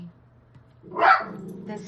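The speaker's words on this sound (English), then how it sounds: "Let me see what she is barking at." A single short dog bark sounds indoors, moderately close, against a quiet background during resin crafting.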